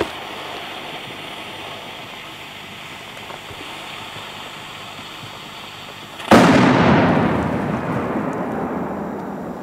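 A Kometa Big Jumbo firecracker detonates outdoors with one loud, sharp bang about two-thirds through, its rumbling echo trailing off over the final seconds after a stretch of steady background hiss.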